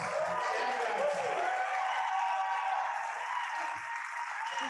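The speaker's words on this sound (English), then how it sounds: "I think you got the loudest cheer, Chad" Summit audience cheering and applauding an awards announcement, a continuous wash of clapping and cheers that holds steady, loud and close, with no talk over it.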